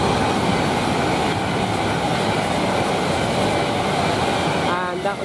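A Pendolino train rumbles through Milton Keynes Central station, a loud continuous roar of wheels and rail noise close by, with a brief squeal near the end.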